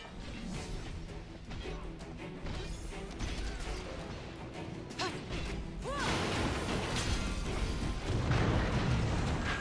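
A small explosion in the video game Stranger of Paradise blasts a door open, a heavy crash and boom rising midway over a dense layer of game music and ambience.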